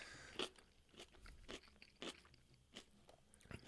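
Crisp, crunchy bites of kimchi recorded close up, a handful of sharp crackling chews at an uneven pace, quiet otherwise.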